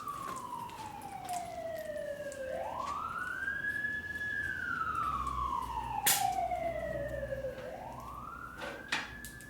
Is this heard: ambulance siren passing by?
yes